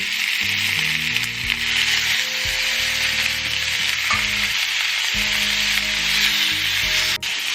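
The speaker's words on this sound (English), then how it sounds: "I am going to sear my beef until they are nice and brown on all sides." Beef sears in vegetable oil in a cast iron pan over medium-high heat for barbacoa, a steady loud sizzle and frying hiss running the whole way with occasional stirring scrapes and no voices.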